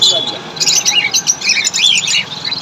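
Caged lovebirds and Java sparrows at a bird shop, a busy cluster of high chirps, tweets and squawks close by, overlapping continuously with faint background voices.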